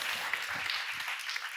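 Light applause rises from a conference audience at a sustainability event, a soft, brief patter of clapping heard at a distance.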